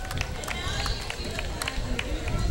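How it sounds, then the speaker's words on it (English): Applause and crowd noise from parade spectators greeting the American flag at the Santa Maria Elks parade, a steady dense wash of clapping and murmur with scattered sharper claps throughout. "You hear the applause."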